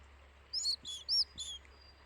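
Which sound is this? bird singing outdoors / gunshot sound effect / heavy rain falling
bird singing outdoors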